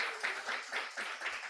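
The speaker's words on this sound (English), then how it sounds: "One more round of applause." A small crowd claps at an event recapping a Top Chef season finale, producing light, fairly faint, uneven bursts of clapping in a loose rhythm.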